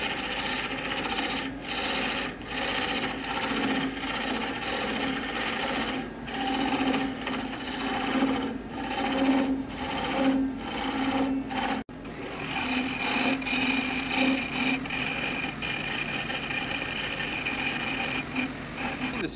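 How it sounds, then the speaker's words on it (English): Scraping tool drawn steadily across a wooden folding shovel handle to smooth and level the surface, giving continuous rasping strokes in an even rhythm, close and moderately loud with no talking. "the last chisel I'm going to use here is a scraping tool"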